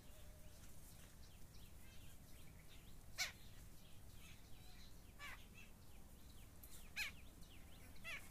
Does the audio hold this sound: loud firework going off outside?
no